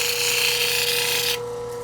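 A lapidary polishing wheel works a carnelian stone with a steady, close raspy rubbing that holds even for over a second, then drops off abruptly to a quieter hum.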